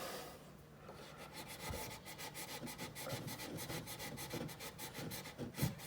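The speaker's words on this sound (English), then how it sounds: "So you want to get that nice and smooth, then cut that bit of Gyprock there" A Stanley knife blade scrapes and shaves along a cut edge of Gyprock plasterboard, a close rasping rub in quick repeated strokes that grows slightly louder toward the end.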